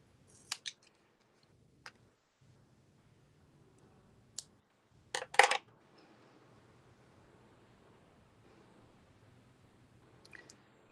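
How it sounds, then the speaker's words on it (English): Scissors snip a small piece of foam adhesive in a few sharp, close clicks and cuts separated by quiet pauses, with one louder burst of cutting in the middle. "So I'm going to cut a little piece of foam adhesive to go on the back of that."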